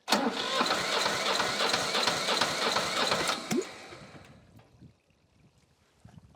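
An old Shibaura tractor engine cranks steadily with a rapid mechanical chatter for about three and a half seconds, then stops and fades to near silence with a few faint clicks at the end.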